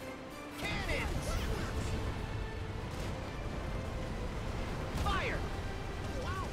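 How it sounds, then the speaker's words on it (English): Cannon fire during a ship battle in Kingdom Hearts III, a dense loud game soundscape of booming blasts and crashes with swooping effects, continuing under frantic talk from players. "Cannons."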